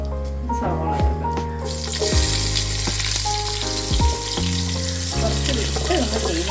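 Onions hit hot oil with cloves, cinnamon, pepper, cumin and cardamom for biryani, and a loud frying hiss swells up over steady tonal background sounds.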